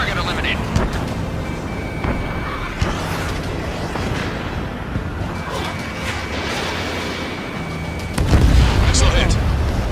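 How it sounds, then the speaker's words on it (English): A missile strikes its target in Ace Combat 7, heard as a dull rumbling impact that swells near the end over constant jet-engine roar, with game radio voices talking throughout. "Missile hit."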